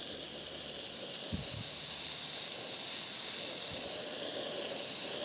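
A spray gun lays 2K clear coat onto a 3D-printed part, giving a steady, close hiss that runs unbroken throughout, with a couple of faint low thumps underneath and no talking.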